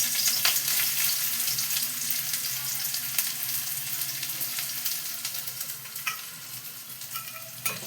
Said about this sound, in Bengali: এবার তেলের মধ্যে আমি কিছু পেঁয়াজ কুচনো দিয়ে দিচ্ছি